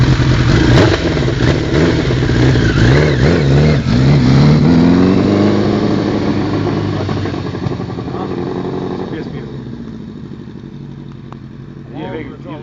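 A Kawasaki GPZ 1000R motorcycle engine revs up loudly, its pitch rising and falling, then fades slowly as it pulls away.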